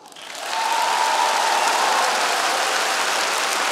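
A crowd bursts into sustained applause, swelling within the first half second and then holding steady and loud, at a biathlon-themed event.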